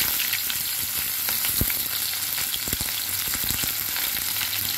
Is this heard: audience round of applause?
no